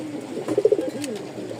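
Soft coos from a pair of Rajshahi Giribaz pigeons, a short run of low rolling calls in the middle, fairly close, with quiet background before and after.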